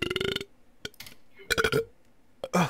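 A burp from a person during a CSGO gaming session, heard among short bursts of talk and game noise, a loud guttural belch rising briefly near the middle.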